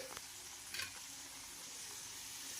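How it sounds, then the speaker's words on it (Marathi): Okra (bhindi) fries in a pan over a medium gas flame, giving a steady, soft, continuous sizzle with a faint stir or scrape near the start. "आणि मिडियम गॅसवर आपल्याला हे फ्राय करायचे आहे फुल गॅसवर केल्यास ही जळून जाते"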